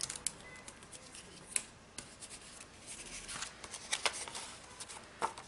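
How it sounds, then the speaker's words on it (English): Clear tape wrapped around a ribbon on a handmade card gives quiet, close crinkly rustles and soft rubbing taps in a quick, uneven rhythm, with no talking. "we're going to wrap it around, and we're going to use tape."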